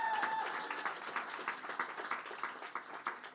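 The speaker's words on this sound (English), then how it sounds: "Give her a round of applause." An audience claps at a tech demo day held at Google headquarters, brisk overlapping applause that starts full and gradually thins into scattered claps, with a brief tonal squeal near the start.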